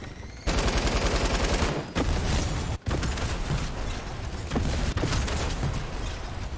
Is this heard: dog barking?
no